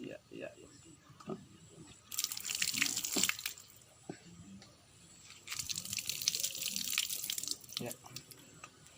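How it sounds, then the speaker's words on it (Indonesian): Tap water running over washing hands in a village, two longer bursts of splashing flow with drips and rubbing between them, heard close alongside intermittent talk. "Ya, kita cuci tangan."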